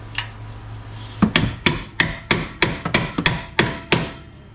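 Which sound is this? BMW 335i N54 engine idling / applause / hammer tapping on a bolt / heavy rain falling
hammer tapping on a bolt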